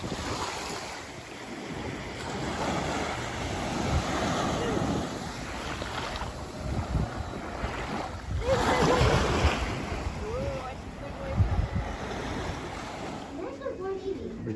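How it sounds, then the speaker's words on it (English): Ocean waves breaking on a lava rock shore in West Maui, a continuous rushing surf with swelling crashes and heavy wind buffeting the microphone, close and loud, with faint voices mixed in. "The biggest waves we've seen all week here."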